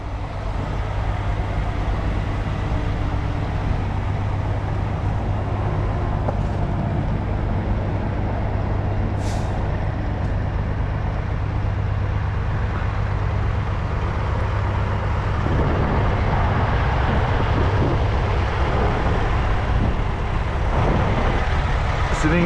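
A truck drives close behind on a highway near an exit toward Lakeport Road. Its engine and tires make a loud, steady rumble that carries on without a break, along with the constant drone of traffic.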